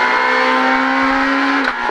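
Renault Clio rally car at full throttle on a rally stage, a loud, steady high-revving engine drone held close for about two seconds, with a brief dip near the end.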